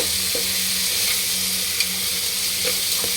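Masala spices sizzle and fry steadily in a pan for coconut rice, a continuous close crackling hiss with a few brief stirring clicks and scrapes and no voices.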